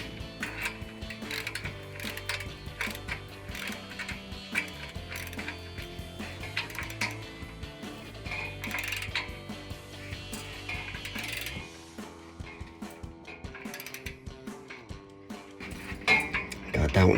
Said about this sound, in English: you're gonna go back to your 5/8. Tighten that clamp back down.